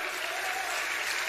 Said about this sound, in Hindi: जो समझ गए वो ताली बजा दो